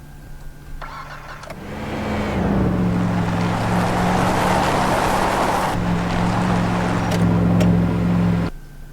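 A small car's engine turns over and catches, then idles and revs steadily nearby for several seconds before cutting off abruptly near the end, during a stunt session.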